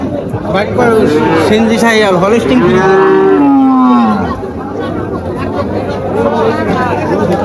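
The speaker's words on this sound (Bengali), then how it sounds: "প্রচুর গরু উঠছে আজকে" A cow gives a long, loud moo amid the busy chatter of a cattle market crowd in Faridpur, with several voices talking close by.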